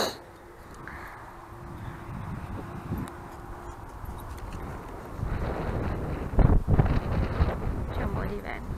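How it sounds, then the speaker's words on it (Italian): Wind buffets the microphone outdoors on a sunny day among melting snow, a broad rumbling gust that swells and grows stronger toward the end, with a voice speaking briefly underneath. "C'è un po' di vento."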